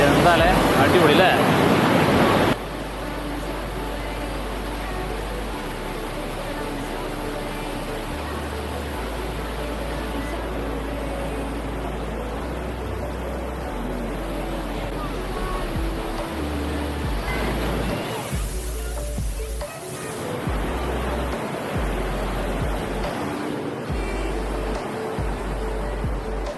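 A small waterfall rushes in a steady broadband roar, close and continuous, with brief dips as the sound shifts, and someone talking over it at times.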